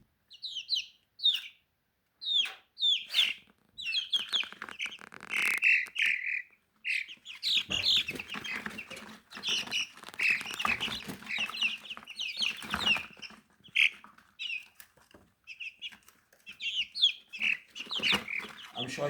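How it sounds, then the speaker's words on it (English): Purebred chicks kept for breeding, including black Australorp and light Sussex, chirp and cluck in a busy brooder, with high peeps coming in bursts and overlapping more densely as the flock grows noisier. "we are keeping some purebred chicks for breeding"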